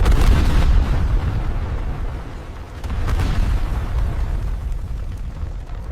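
Royal cannon artillery fires during a siege of a walled city, sending out deep rolling booms and sustained rumbling blasts that swell, ease and swell again, loud and close, with no voices.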